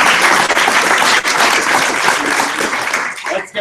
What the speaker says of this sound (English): Let's give all of our regionals a round of applause.